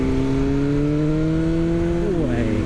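A 2021 BMW S1000R motorcycle engine holds a loud, steady rev close by, then the pitch shifts and drops off near the end as the throttle eases.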